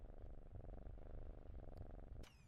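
A cat in the game Layers of Fear purrs in a soft, continuous rhythmic rumble with a brief higher sound near the end, close and fairly quiet with no voices.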